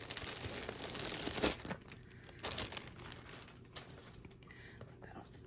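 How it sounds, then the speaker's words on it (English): Packaging being torn open and crinkled up close, with a burst of loud crackling rustle early on, then softer intermittent crinkles and handling noises. "I'm gonna go ahead and open this guy up. Sorry for the crinkle sounds."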